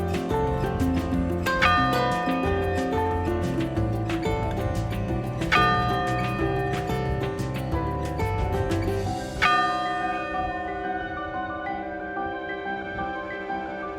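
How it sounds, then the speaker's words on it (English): Church bells toll at St. Bernard parish on the day of its last Mass in 1971, layered clangs ringing steadily and close, overlapping strikes building a dense resonant wash that thins and decays toward the end. "the people departed with heavy hearts as the bells tolled for the last time"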